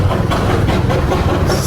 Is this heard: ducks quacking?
no